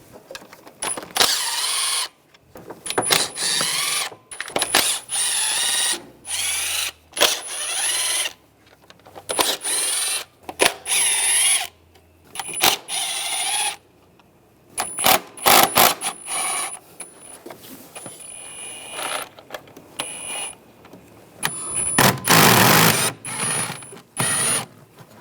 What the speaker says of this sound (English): Using the same 10mm socket, take all the bolts on the perimeter of the valve cover.